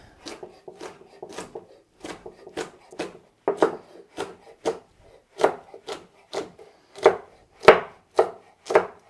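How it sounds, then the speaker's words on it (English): A knife chops food into small cubes on a cutting board during Sunday meal prep, a steady run of sharp, close taps that grow louder and more forceful toward the end, with no talking. "And then I'll cut them into little cubes."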